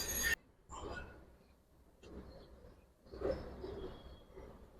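Old-breed Giribaz bagha and jabra pigeons coo at a pigeon fair, soft repeated coos rising over a low murmur of crowd noise and handling sounds.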